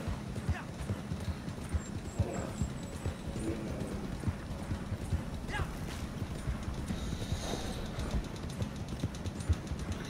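Horse hooves gallop in Red Dead Online, a steady rhythmic clip-clop that carries on throughout. Voices talk over it at moderate level.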